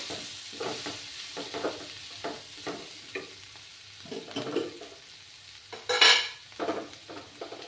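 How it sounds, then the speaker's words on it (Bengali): Spice paste is stirred and fried in a pan with vegetables and egg: rhythmic spoon scrapes over a low sizzle, with one louder sharp clatter near the end, close and unaccompanied by talk. "ভালো করে মশলাটাকে কষিয়ে নিতে হবে।"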